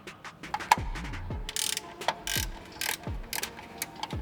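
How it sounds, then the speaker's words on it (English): A 10mm ratchet wrench loosens a bolt on the center plastic bracket behind a Cybertruck's front bumper, giving short close bursts of quick pawl clicks separated by brief pauses. "we need our 10mm wrench, and we're going to take this one bolt off the top of this center plastic bracket here."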